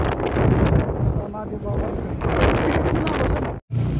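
Strong wind buffeting the microphone at the Jomsom bus park in Nepal, loud rumbling gusts throughout with someone talking over it and a brief dropout near the end.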